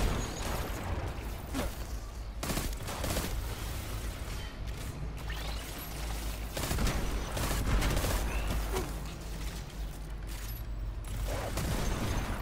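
Gunfire in the Destiny 2 video game: repeated sharp shots and bursts of fire at an uneven rhythm, loud and up close, with whooshing effects and no speech.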